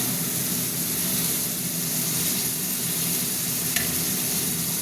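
Pumpkin and okra frying in a pan after water and mustard paste go in, a steady, loud, close sizzle holding evenly throughout with a slight bubbling hiss.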